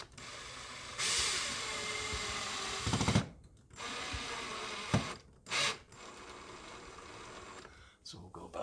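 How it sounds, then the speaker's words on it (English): A power driver with a driver bit screws into a plastic molly anchor while a curtain rod bracket is installed, giving a few short bursts of whirring and ratcheting with pauses between them, heard close by. "if you're going to use a driver like this, a driver bit, you want to be careful and you don't want to ram it all the way in"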